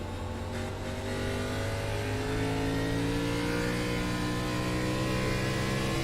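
An onboard race car engine in a sim racing game drones steadily at high revs, its harmonics climbing and shifting through gear changes as the lap continues without pause.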